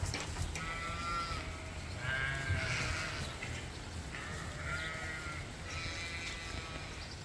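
Several sheep bleat indoors in repeated calls over a steady hiss of heavy rain, the bleats fairly close and clear with short pauses between them.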